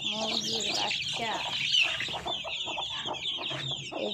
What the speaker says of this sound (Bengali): আমরা এখন এই বাচ্চা মুরগি ছাড়বো